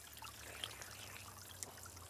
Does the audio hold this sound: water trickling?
yes